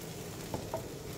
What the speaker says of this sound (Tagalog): Mahirap na siyang haluin guys